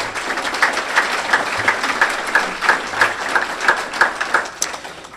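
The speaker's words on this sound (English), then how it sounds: "Applause, please." A crowd applauds at a civic awards ceremony, the clapping full and close with a loose rhythmic pulse of swells running through it.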